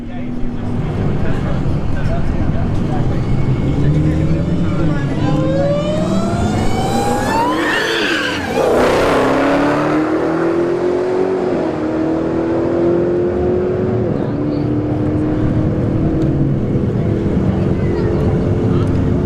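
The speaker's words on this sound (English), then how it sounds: "we got an RS5 in the right lane, Hellcat Challenger in the left lane." An Audi RS5 and a Dodge Hellcat Challenger launch side by side at a drag strip test-and-tune night, loud engines revving hard with rising gear-shift sweeps, one car passing close with a sharp doppler swoosh before the roar fades.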